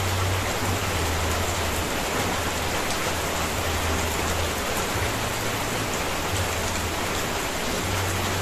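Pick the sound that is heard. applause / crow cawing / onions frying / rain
rain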